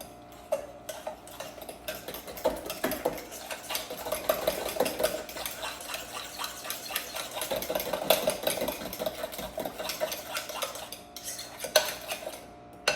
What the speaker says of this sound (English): And then we'll give this a good mix.